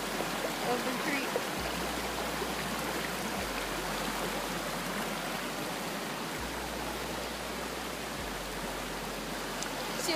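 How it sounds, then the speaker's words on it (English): A creek flows steadily along a hiking trail, a continuous close rush and babble of water with an even, unbroken texture and no voices. "I'm taking a video of the creek"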